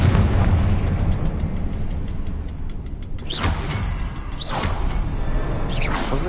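Fiery spell blasts in Hogwarts Legacy erupt as loud booming bursts, three separate explosions spaced a second or so apart over a rumbling game background.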